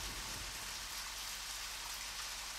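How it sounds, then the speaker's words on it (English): Rain falls steadily in the video game Deadly Premonition, an even, hissing wash of drops on surfaces that runs unbroken and fairly soft, with no one speaking. "We'll just wait here. Stand around in the rain."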